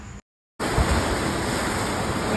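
Rough sea waves crash and hiss in a loud, broad roar of surf, cut by a short silent gap before the churning water returns and continues steadily.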